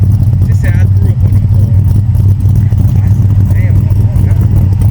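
An LS-swapped 6.0 V8 idles in a 1985 Buick Regal, a loud steady low rumble that runs throughout as people talk over it.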